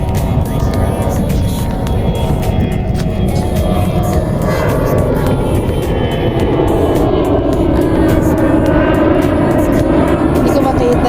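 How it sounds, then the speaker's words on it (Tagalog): A steady, broad roar of an airplane passing overhead in the desert fills the whole stretch, constant and moderately loud, with faint voices mixed in. "Yan, may lumipad na siya eroplano"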